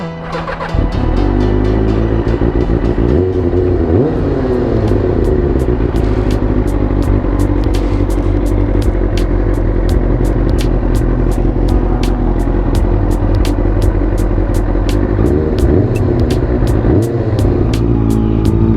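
A restored Kawasaki ZX6R motorcycle, its throttle recently freed from sticking, runs loud and close throughout with a continuous throbbing engine note that rises and falls as it revs, with surges around the start and again near the end.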